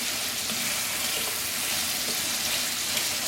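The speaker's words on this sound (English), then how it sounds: "I'm going to add about 2 cups of water to this" Water poured into a pan of sautéing chayote squash filling gives a loud continuous sizzling hiss and rushing splash, steady throughout with no talking.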